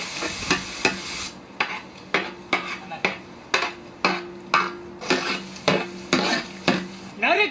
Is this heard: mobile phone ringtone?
no